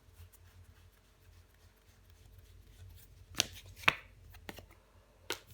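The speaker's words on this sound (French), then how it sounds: "Mais je recouvre des cartes" Tarot cards being handled and laid out, giving a few soft rubs and brief sharp card slaps and flicks spaced over a quiet background, with no talk.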